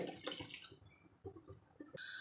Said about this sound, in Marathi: मी दोन ग्लास हे पाणी घातलं आता हे मी याच्यात घालते